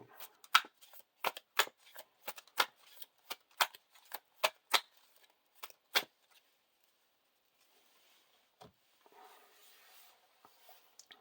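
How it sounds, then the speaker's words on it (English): Cards from the encounter deck of the Lord of the Rings card game being shuffled by hand, a quick run of sharp riffling snaps and rubs in a quiet room, then stopping, followed by faint handling noises. "Shuffle this back into the encounter deck."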